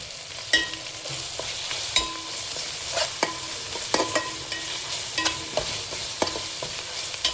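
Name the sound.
frying mint, green chilies and ginger garlic paste in pan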